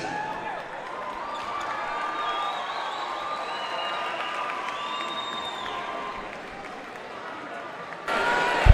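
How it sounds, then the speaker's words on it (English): An arena crowd at a college basketball game between the Eagles and Bob Jones University cheers and applauds in a steady roar before tip-off, with announcers talking over it and a louder burst at the end. "obviously you can hear the crowd already through the roof electricity right now"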